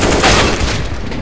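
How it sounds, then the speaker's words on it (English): A grenade blast in CS:GO on the Nuke map, a single loud burst that booms out and decays over about a second, with no voices. "Grenade"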